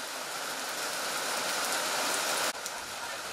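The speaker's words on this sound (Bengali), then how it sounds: "কেমন বৃষ্টি হচ্ছে কেমন?" Heavy rain pouring onto a village road during windy weather, a dense, constant hiss that stays loud and even and then drops abruptly near the end, with no talking.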